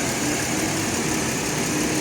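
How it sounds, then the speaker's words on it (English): A car engine idles steadily with the AC compressor switched on, giving a constant close-up hum and whir with no variation over a couple of seconds. "So I'm going to start the car and turn on the AC compressor"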